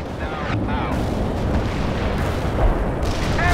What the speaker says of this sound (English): Romanov, call in artillery and airstrikes on them.